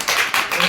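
A classroom of children clapping together on the teacher's request, a short burst of brisk, moderately loud applause lasting under a second.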